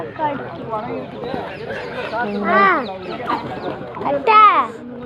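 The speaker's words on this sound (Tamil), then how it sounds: "ஃபுல்லாக நாட்டுக்கோழி மட்டும்தான் இருக்குது" Several native country roosters and hens cluck and call close by at a village market in Tiruppur, with a couple of louder crowing bursts, while a person talks over the birds.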